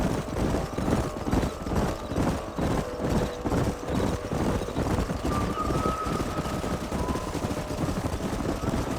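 Hooves pound in a quick, rhythmic drumming of several horses at a gallop in the video game Red Dead Redemption, fairly close and steady, with a faint high tone briefly rising midway.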